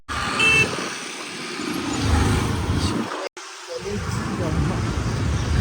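Busy road traffic with cars and trucks passing close by, a steady wash of engine and tire noise with a brief horn toot near the start, one sharp cut partway through.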